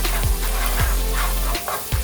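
Red onions slow-cook in a pan with a steady close sizzle, broken by a few regular soft scrapes as they are stirred.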